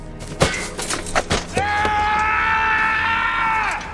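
A man lets out a long, gut-wrenching anguished scream in a Lord of the Rings film scene, rising after a few sharp thuds and cries and held loud for about two seconds.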